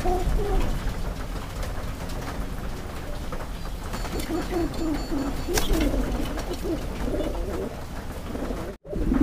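Satin pigeons coo on a pigeon farm in repeated soft, throaty calls over a constant rustling, noisy background, with several birds close by.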